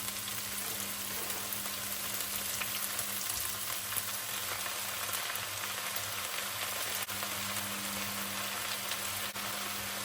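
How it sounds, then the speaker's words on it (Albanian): Spinach and onions frying in olive oil over medium heat give a steady, continuous sizzle with a low hum underneath, constant throughout with no voices. "Fillojmë ta skuqim spinaqin bashkë me qepën në temperaturë mesatare"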